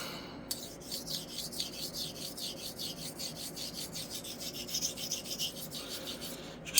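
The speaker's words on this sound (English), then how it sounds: "Just chase the slurry back and forth, making sure I'm working the entire edge." A straight razor worked back and forth on a La-lune hone with slurry makes a steady wet rasping rub, repeated in quick regular strokes, close and fairly quiet, with no voices.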